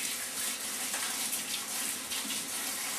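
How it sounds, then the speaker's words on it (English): Tap water runs steadily and close by as fresh greens are rinsed under it, a continuous broad hiss and splash with no voices. "I'm gonna rinse these off really good."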